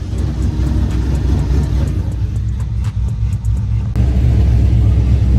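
A supercharged Hellcat-swapped Dodge Challenger R/T engine runs rough and surging, a loud, close, heavy low rumble that wavers unevenly and then thickens near the end, with no talking.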